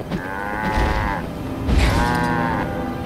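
Cows in the game Guild Wars 2 give two long, loud moos in a row, each a drawn-out low bellow close by, with no talking over them.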